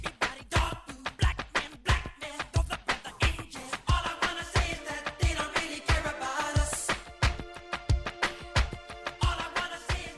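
Synthesizers enter a 1995 song over a steady pounding drum beat, with layered electronic tones building and then holding sustained chords, playing on its own at moderate volume with no speech.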